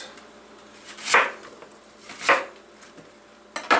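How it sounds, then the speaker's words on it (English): A knife slicing vegetables into wedges on a cutting board, three separate crisp cuts spaced about a second apart, close and fairly quiet with no talking. "Cut that into wedges."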